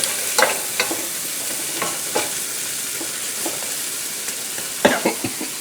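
Seasoned squash sizzles softly in a pan, with occasional utensil scrapes and stirring clicks punctuating the steady frying hiss.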